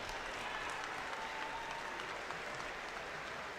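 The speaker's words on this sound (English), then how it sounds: "Let's give these folks a big round of applause." An audience at a high school basketball game gives steady, dense clapping that holds at an even level from start to finish, with no voices standing out.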